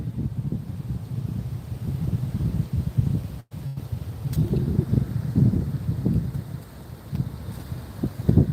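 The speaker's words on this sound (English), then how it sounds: "The wind is blowing." Strong wind from Hurricane Helene buffets a microphone at Clearwater Beach, a constant low rumbling roar with gusty surges and a brief dropout, loud and close.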